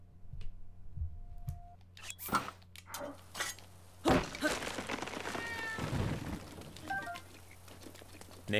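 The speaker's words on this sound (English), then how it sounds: "if you hear the meowing" A cat meows a few times at close range among clinks of dishes and household clatter, the calls rising and falling over several seconds.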